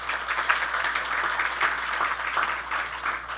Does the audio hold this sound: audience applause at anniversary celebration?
yes